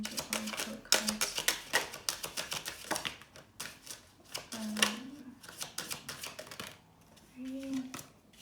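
Angel oracle cards are shuffled and riffled in quick, papery bursts of crisp flicks with short pauses between them. The sound is close, with a soft voice murmuring briefly in between.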